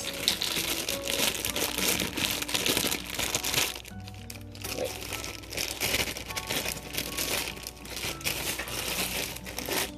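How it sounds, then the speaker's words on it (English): Carrot strips are dropped in and tossed over a baked chicken and potato salad dish, giving close crinkly, crunchy rustling with a brief lull midway. "So adding my carrot strips."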